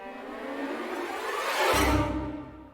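An orchestral transition effect from the Native Instruments Rise & Hit library swells into a rising whoosh that builds to a peak, with a deep low-end hit near the end before the sound thins out.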